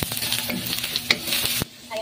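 Garlic and onion sauté for pork asado, a soft, continuous sizzle with light stirring clinks and scrapes, then the hiss drops away near the end.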